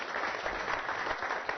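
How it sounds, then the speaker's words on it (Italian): A television studio audience applauds with a brief burst of dense, steady clapping at moderate loudness, with no voices over it. "Un applauso."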